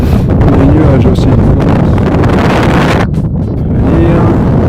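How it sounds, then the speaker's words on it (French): Strong wind blows in the mountains at about 2430 metres, buffeting the microphone in loud, continuous gusts with a brief lull near the end. "Du vent."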